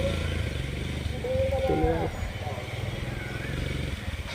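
A motorcycle engine rumbles nearby at a low idle, rising slightly for a moment while people talk over it as it is stuck and being pushed.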